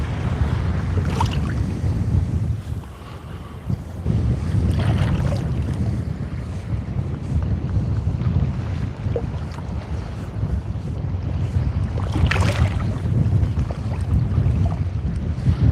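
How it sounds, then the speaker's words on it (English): Strong wind blowing over open water during kayak fishing, a loud continuous roar with gusts and microphone buffeting and a faint wash of waves, alone without talk. "That wind's getting stronger. I thought it was going to get less. If anything, it's getting more."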